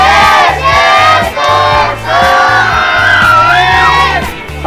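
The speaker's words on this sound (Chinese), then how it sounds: "李老师掌声" A crowd at a charity baseball equipment donation event for elementary schools in Taitung cheering and shouting in bursts, loud and close, with excited voices rising together.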